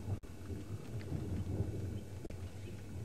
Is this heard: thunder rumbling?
yes